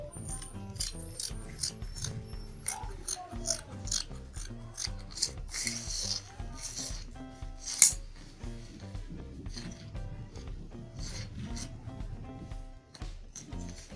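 Scissors cut through fabric along the armhole of a ruffled off-shoulder dress, giving a steady series of close, crisp snipping and rasping strokes in an even rhythm with no talk.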